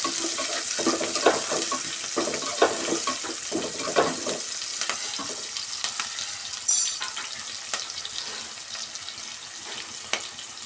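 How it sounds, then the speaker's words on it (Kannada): Two cut onions frying in a pan for hotel-style potato saagu, a continuous close crackling sizzle with scattered stirring scrapes and a brief metallic clink midway, no voices. "ಈಗ 2 ಈರುಳ್ಳಿನ ಈ ಥರ ಕಟ್ ಮಾಡಿ ಇಟ್ಕೊಂಡಿದ್ದೀನಿ, ಅದನ್ನು ಸೇರಿಸ್ಕೊತಾ ಇದ್ದೀನಿ. ಇದನ್ನು ಚೆನ್ನಾಗಿ ಫ್ರೈ ಮಾಡ್ಕೊಬೇಕು."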